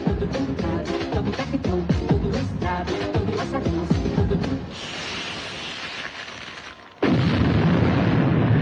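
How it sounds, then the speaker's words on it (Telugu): Bombs planted in the hills go off in a Telugu film fight scene from Tholi Prema. Dramatic scored sound gives way to noisy rumbling, then a sudden loud, sustained broadband blast near the end. "కొండలకు బాంబులు పెట్టారు"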